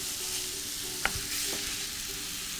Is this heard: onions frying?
yes